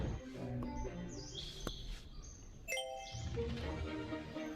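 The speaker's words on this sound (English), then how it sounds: "It's a male finch." A male finch chirping outdoors, brief bright tweets and short whistled calls repeating in scattered bursts over faint background noise.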